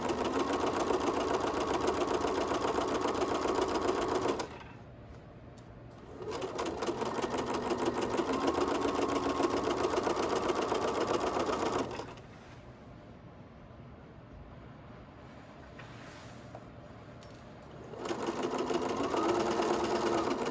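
Sewing machine running steady bursts as it stitches a closely spaced reinforcement seam, three long runs with brief quiet pauses between them, near and loud with no talking.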